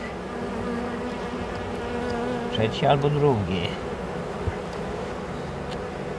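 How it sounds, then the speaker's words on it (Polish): Close, steady buzzing of honeybees at a hive, with a louder swell as one passes near the microphone; a brief voice speaks in the middle. "No i jest to pszczoła miotna."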